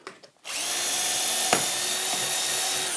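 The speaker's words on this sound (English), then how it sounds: "and then I can drill a hole here." A CXS cordless drill set to its faster speed bores a 3mm hole for a tracksaw waste board, starting abruptly and whining steadily and close for a few seconds with a slight bump midway.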